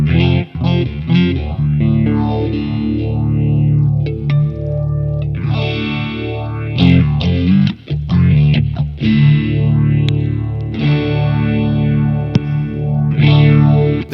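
Distorted electric guitar through a HomeBrew Electronics Psilocybe phaser pedal, loud sustained chords with sweeping, swirling phase modulation rising and falling in repeated cycles.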